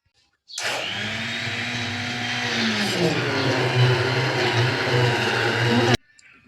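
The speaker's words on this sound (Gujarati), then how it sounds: "તો બ્લેન્ડર મારી લીધું ને હવે એને ગાળી લઈ।" A kitchen blender purees boiled tomatoes for sauce. The motor starts suddenly, holds a loud, steady whir for about five seconds while the pitch shifts slightly, then cuts off abruptly.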